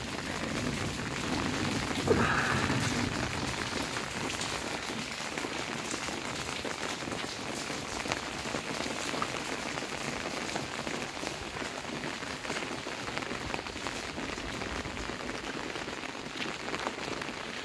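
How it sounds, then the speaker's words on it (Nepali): Steady rain falls on a misty forest area, a dense continuous patter of drops on surfaces that holds at an even level throughout with no talking. "पानी पर्न लाग्छ रे पानी पर्दैछ"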